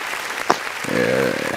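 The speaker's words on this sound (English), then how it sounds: "They can't stop clapping." Studio audience applauding a guest on a night-time talk show, a steady wash of clapping that swells in the second half while a voice with tonal, sung-like harmonics rises over it.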